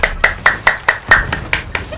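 Evenly spaced sharp claps ring out one after another, about eight in two seconds, close and fairly loud with a slight echo and nothing else around them.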